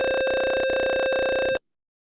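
A steady electronic tone from an online tone generator sounds loud and constant with a faint rapid pulsing, then cuts off abruptly after about a second and a half, leaving silence.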